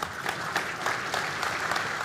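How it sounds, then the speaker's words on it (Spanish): Applause from a seminar audience welcoming a speaker on weed management, a steady, fairly faint patter of many hands clapping throughout. "Recibámoslo con un fuerte aplauso"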